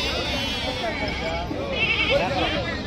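Sheep and goats bleat repeatedly at the Gudur livestock market, mixed with nearby people talking and general crowd noise.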